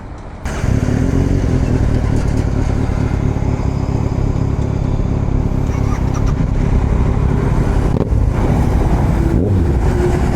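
A Kawasaki ZX-6R motorcycle engine runs loud and close after a brief quiet start, holding a steady rough roar with small throttle changes as the bike rides off, no talk over it.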